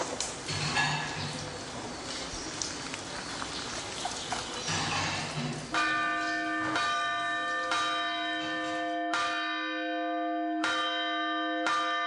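Church bells at a Bulgarian monastery ring out for the evening service, several loud, resonant strikes with long ringing decays following a stretch of muffled ambient noise.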